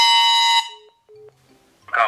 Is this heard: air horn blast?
yes